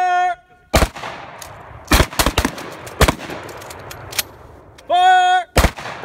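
Sharp gunshots from a Mossberg 500 shotgun or Glock 17 pistol crack out at a firing range, about half a dozen loud reports in an irregular sequence, with brief voices calling out between them.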